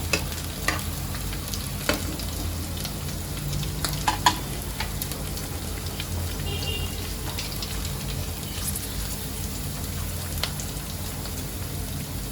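Green chillies saute in oil with a soft continuous sizzle and occasional scraping stirs and light taps of a spatula, fairly quiet and without talk.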